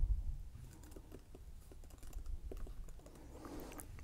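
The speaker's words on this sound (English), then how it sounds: "I'm just going to type in there" Quiet keystrokes tap out text on a computer keyboard in a stretch of irregular, soft clicks, close but faint against low room noise, with no voices.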